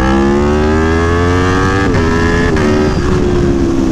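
Aprilia Tuono V4 Factory motorcycle engine screaming loud and close at full throttle near 9,000 rpm, a sustained high-pitched wail that rises steadily before dipping abruptly as the revs shift.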